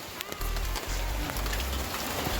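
Steady rain pours down outdoors at a home cooking spot while a pot of pig's tail stew peas is on the go, a dense continuous hiss with heavy low rumble throughout, no talk over it.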